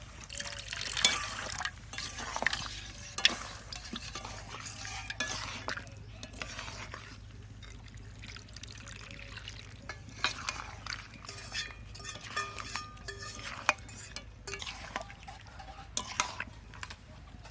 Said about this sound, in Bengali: এই বাটি ধোয়া জলটা দিয়ে দেবো।